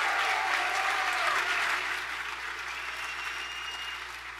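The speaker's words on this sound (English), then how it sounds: "give them a round of applause" A university debate crowd at the University of Michigan gives a round of applause, a dense, fairly faint wash of clapping that eases off slightly toward the end.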